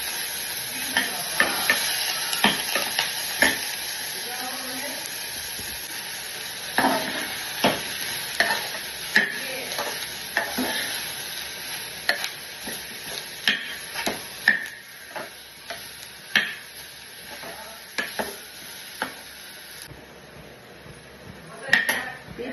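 Beetroot and carrot sautéed with salt in a pan, a steady sizzle broken by frequent clinking spatula strokes against the metal, close and lively, with a voice now and then.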